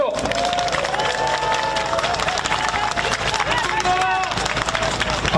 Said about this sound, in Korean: 격려 박수 한번 보내주세요.